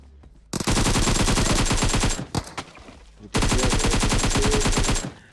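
SMG gunfire in a video game: two long, loud automatic bursts of rapid shots, close up, separated by a short pause with a few scattered rounds.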